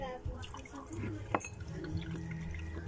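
Juice pours into cups for children at home, soft liquid splashes and trickles with a faint glassy clink, close and quiet while people talk and murmur around it.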